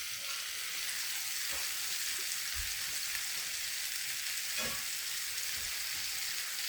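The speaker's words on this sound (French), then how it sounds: "mes petits poireaux dans ma petite poêle. J'adore quand ça chante comme ça." Leeks sizzling hard in a small frying pan over high heat, a dense, even crackling hiss that holds steady, with a few soft knocks and pops, close and without voices.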